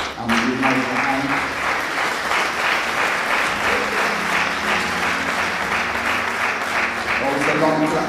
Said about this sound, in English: Always a long clap.